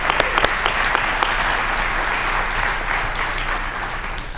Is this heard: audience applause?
yes